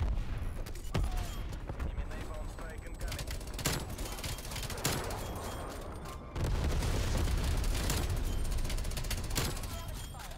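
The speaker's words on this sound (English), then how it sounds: "I just gotta go crazy here with this war machine." In Call of Duty Cold War, the War Machine grenade launcher fires a rapid barrage of loud, booming explosions and gunfire that fill the mix, while a player talks over the chaos.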